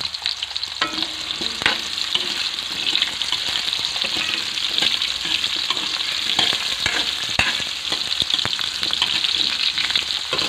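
Ingredients for duck kaldereta sizzle loudly in hot oil while being stirred and tossed in a pan, a steady crackling fry with occasional scraping clicks, outdoors on a mountain.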